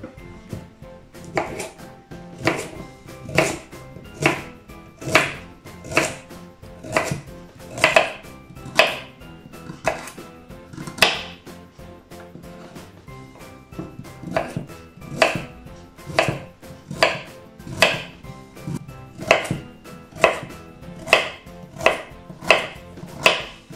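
Jalapeño chiles sliced with a knife on a cutting board, a long steady series of crisp, close chops landing at an even rhythm, with no talking.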